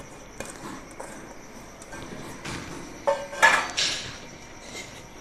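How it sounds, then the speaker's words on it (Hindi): Minced meat (keema) goes into a pressure cooker set on a stove. Soft scraping and a few clinks of utensil against metal build to a louder clatter midway, with quiet kitchen ambience throughout. "इस तरह से सारा कीमा डाल देना है।"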